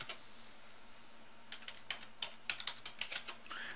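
Quiet, irregular clicking of keys on a computer keyboard, starting sparse and picking up into a steady patter of taps.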